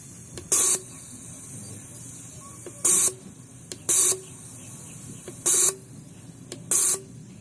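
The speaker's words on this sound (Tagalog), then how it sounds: "Pang-apat na testing na injector na to ng GLI na 4A." Five short, sharp bursts of fuel spray from a Toyota 4A GLI engine injector on a test bench, evenly spaced across a steady background hum, each burst hissing loudly and stopping abruptly.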